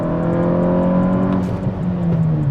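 A performance-tuned VW Mk6 GTI accelerates hard, its engine note loud and close with a steady rising drone and whirring intake tone over about three seconds, no talk.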